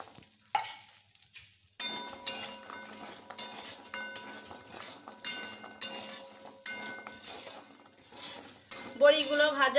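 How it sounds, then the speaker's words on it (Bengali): Pumpkin bori lentil dumplings fry in oil left over from potatoes, a crackling sizzle punctuated by metal spatula scrapes and clinks against the pan, close up, with a brief rattling clatter near the end and no speech. "এবার এই তেলেই বড়িগুলো ভেজে নেব।"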